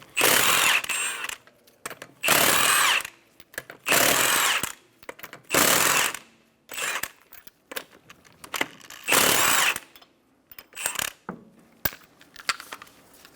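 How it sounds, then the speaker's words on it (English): Impact tool spinning off the five 19mm lug nuts on a Chevrolet Sonic front wheel, in about six loud separate bursts of a couple of seconds each, with quieter clicks and clatter between them. "Using a 19mm socket, remove the 5 lug nuts."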